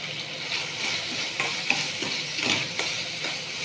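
A spoon stirs mashed tomato masala with ketchup, turmeric, red chilli powder and salt in a hot pan, giving a steady sizzle with soft repeated scraping strokes, close and alone.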